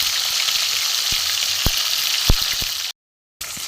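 Halua fish frying in hot oil, a steady close sizzle with a few sharp pops and crackles, briefly cutting out near the end before resuming.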